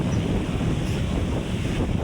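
A strong northeast wind buffets the microphone at the sea, with surf and waves roaring loudly and continuously underneath, a dense unbroken rush with no voices.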